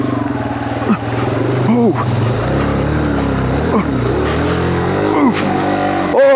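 A Yamaha TW200 motorcycle pushes through a deep, muddy water crossing, its engine droning loud and close throughout with pitch swells as the throttle rises and falls, and a brief voice exclaims over it.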